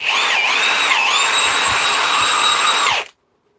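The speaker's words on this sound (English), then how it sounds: "the nut gun works" A Milwaukee cordless nut gun on a fresh battery whirs at a steady high pitch for about three seconds, loud and close, with small dips as the load changes, then cuts off into silence.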